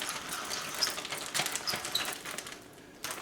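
Black pepper being cranked through a pepper grinder, a close, dry rhythm of ratcheting crunches in short bursts with brief pauses, quiet and alone.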